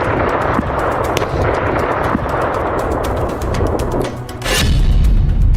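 Explosions and artillery fire at a missile depot form a dense, continuous run of rapid blasts and cracks, then a heavier booming surge near the end, loud and rumbling.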